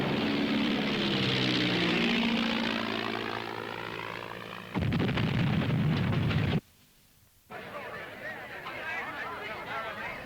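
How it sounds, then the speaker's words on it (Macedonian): World War II aircraft during the 1944 Japanese attack on an American aircraft carrier fleet: loud, continuous engine roar with abrupt cuts and a brief near-silent gap before the noise resumes. "Ова е само кратка секвенца што го покажува сиот бес на јапонскиот напад врз американската флотила со носачи на авиони во 1944."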